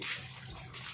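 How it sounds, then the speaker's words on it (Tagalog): Water being poured into a container: short gushing splash that rises, eases off, then surges again, close and fairly soft, with no talk. "Lagyan mo kunting tubig."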